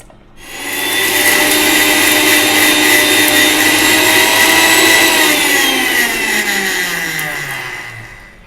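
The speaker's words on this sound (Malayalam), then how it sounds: "അത് നേരെ മിക്സിയിലേക്ക് ഇടാം." A mixer grinder powders roasted spices for an Al Faham chicken marinade, a loud, steady motor whine running for several seconds before winding down.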